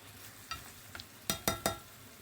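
A spoon stirs cooking food in a pan, giving a few soft scrapes followed by three sharp, evenly spaced clacks against the pan over a faint background sizzle, close and without speech.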